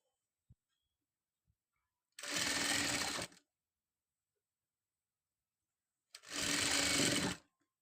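Two distinct bursts of a sewing machine stitching a long designer gown, each about a second long and loud against near silence, with a couple of faint clicks before the first run.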